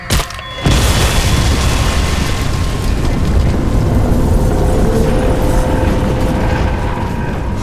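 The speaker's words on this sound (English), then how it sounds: "Explosion imminent." An explosion in the video game Crysis 2 hits as a sudden loud boom after a brief moment of quiet, then a sustained, rumbling roar that stays loud and dense to the end.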